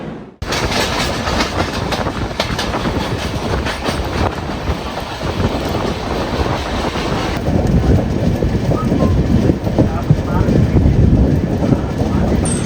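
A train entering Raipur Junction station rumbles steadily with rhythmic clatter of wheels on rails, loud and continuous, with wind buffeting the microphone.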